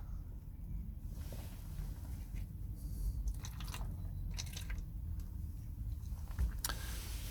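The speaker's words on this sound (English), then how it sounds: "I'm just going to pour water down the side." Water poured down the side of a Mazda MX5 NC soft top, a faint, steady trickle and splash with occasional drips, heard close and alone.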